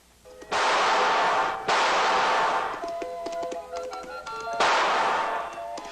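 Radio drama sound effects of rapid gunshots fired at a target from a galloping horse, loud sustained bursts of blasts and crashes ringing out in quick succession, close and dense.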